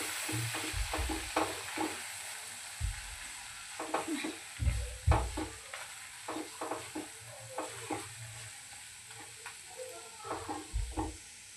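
A spoon stirs a Bombay duck fish curry mixture with fish masala in a pan, repeated scraping strokes in uneven rhythm over a steady sizzle and frying hiss, close up with no talking.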